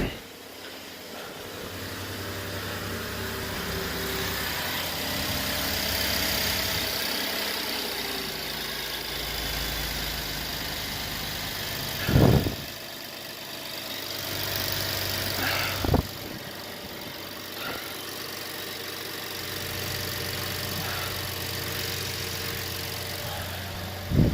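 A 2014 Chevrolet Impala engine idles after an exhaust leak repair, a steady, fairly quiet low hum with a few brief knocks and bumps partway through.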